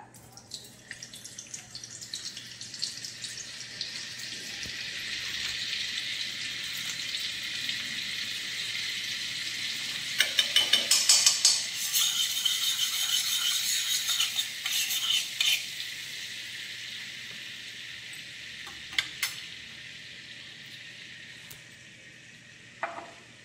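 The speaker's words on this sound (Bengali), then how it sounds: "কড়াতে আমি সাদা তেল দিয়েছি, আর দিয়ে দিচ্ছি কিছুটা বাটার" Butter melts into hot white oil in a wok, a soft steady sizzle with bursts of scraping and crackling in the middle stretch before it settles back to a quiet fry.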